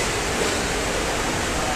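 Water gushes out of an opened outlet on a machine, a loud, steady rushing hiss close by with no break across the short stretch.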